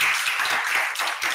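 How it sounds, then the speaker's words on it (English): An audience at a tech talk gives a brief burst of dense, even applause that stays moderately loud for its whole length. "Round of applause."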